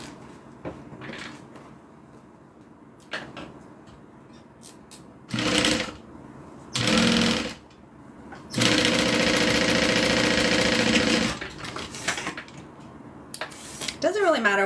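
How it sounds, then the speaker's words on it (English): A sewing machine stitches up the pocket of a change purse in several short bursts followed by one longer steady run, close and loud, with handling clicks and rustles between the bursts. "Going to sew up that pocket."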